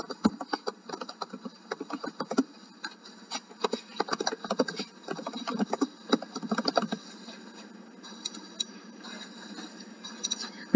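Rapid bursts of typing on a computer keyboard, close and crisp, with irregular clusters of key clicks that slow to sparse taps toward the end.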